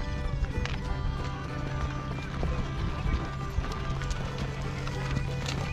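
Horse hooves clip-clop at a run, a busy steady clatter of beats close by with a faint whinny-like call and outdoor noise, as a team sets out to capture a horned stag.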